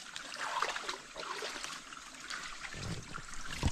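Water trickles from a natural spring in Lucban, Quezon, a soft continuous burbling close by with a faint outdoor hiss and a few small splashes near the end.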